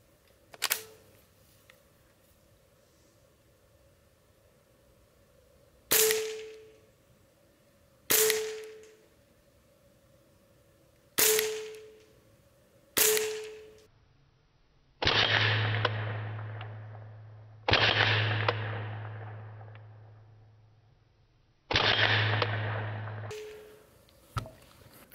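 A Hatsan Galatian Tactical semi-auto air rifle fires, each shot a sharp, isolated crack spaced a few seconds apart. Several later shots trail off into a longer ringing, humming decay.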